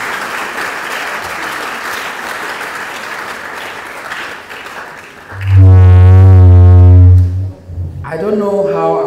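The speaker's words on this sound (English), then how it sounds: "I call on another applause for you." Loud, dense applause fills a hall after a College of Engineering public lecture. It fades toward the middle, and then a loud, steady tonal blast and a voice cut across it.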